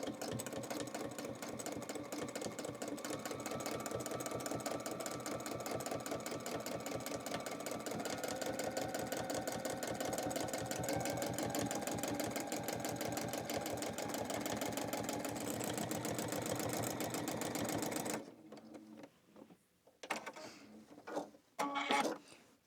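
A sewing machine does free-motion thread painting in a fast, steady stitching run for about eighteen seconds, then stops and makes a few short bursts as it trims the thread, close and clear.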